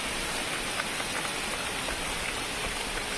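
Heavy rain pours steadily outdoors in a hilly mountain village, a dense continuous hiss of falling water with runoff, loud and even throughout with no voices.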